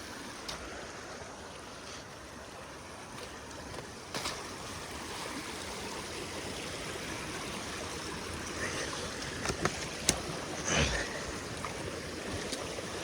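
Floodwater drains slowly from a pipe into a creek, rushing and trickling steadily at a low level, with a faint breezy hiss and a few soft knocks.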